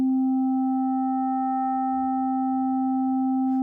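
A steady synthesized tone from Ableton's Operator synth set with a long attack and long decay, a pure sustained pitch with a faint overtone, holding evenly at moderate loudness with no voices.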